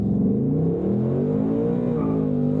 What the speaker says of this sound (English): So to get off the line, I'm going to brake boost it and let go.